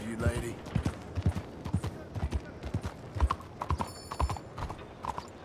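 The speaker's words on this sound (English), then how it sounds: "Oh, this horse is fast." Hooves of a Missouri Foxtrotter galloping in Red Dead Redemption 2, a quick repeating clip-clop drumming steadily throughout amid game ambience.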